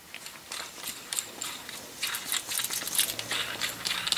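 A bicycle coaster brake's sprocket and crank turned backwards on the bench, giving a run of small, close mechanical ratchet clicks and light metal rattles at a steady, quiet level with no talk.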